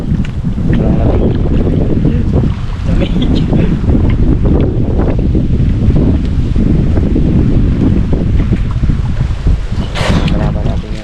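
Strong, cold wind roars steadily over deep open water from a boat, loud buffeting wind noise on the microphone with no break throughout.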